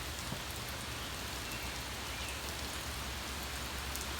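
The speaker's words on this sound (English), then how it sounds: "It's been raining for an hour now." Steady rain falls continuously on a rainy homestead, a dense even hiss heard from inside a garage with no talking over it.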